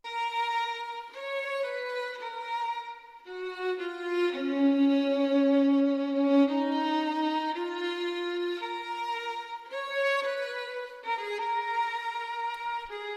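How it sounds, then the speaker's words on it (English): Two stacked AI-generated violin lines play together in a bright, sustained melody, notes gliding and overlapping steadily, close and clear with no voices. "I used 2 violins, and they sound really crispy"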